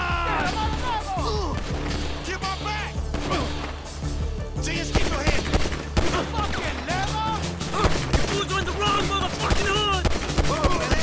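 Rapid bursts of gunfire in Grand Theft Auto crackle and pop in dense volleys, mixed with impacts, with no pause across the whole stretch.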